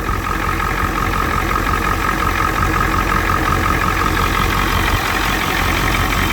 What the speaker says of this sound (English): Pull that oil fill cap, and we'll see how much blow-by this engine's got.